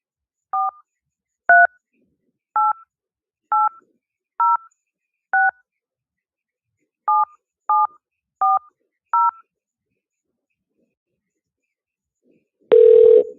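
Ten short two-tone keypad beeps dialed in an uneven rhythm, a pause, then a phone ring tone begins at the very end.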